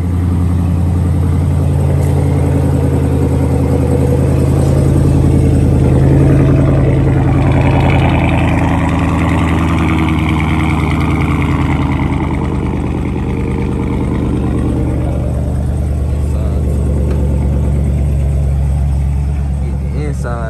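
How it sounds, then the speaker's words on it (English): Dodge Charger Scat Pack or Hellcat V8 idling after a hard start, a dense, loud, steady low rumble filling the whole stretch, recorded up close with a voice talking faintly underneath. "The car finally started."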